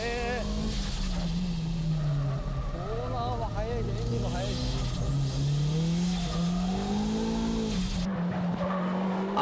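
A 300-plus horsepower K-Office Nissan Silvia is driven hard through mountain pass corners, its engine note swelling and dipping with tire squeal, loud and close, while someone talks over it.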